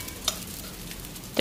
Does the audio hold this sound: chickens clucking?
no